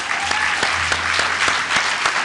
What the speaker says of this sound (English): Shall we give Carmel a clap for thank you?